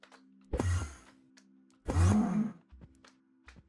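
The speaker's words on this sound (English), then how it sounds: "If you heard that moo." Two drawn-out, low cow moos from a video game sound a second or so apart over a faint electronic hum, with a few soft clicks in between.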